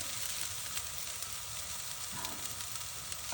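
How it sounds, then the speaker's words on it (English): Chopped vegetables sauté in a pan for vegan burger patties, a soft, even sizzle heard close but fairly quiet, with occasional light stirring scrapes. "So I've been sauteing all the veggies for about 15 minutes."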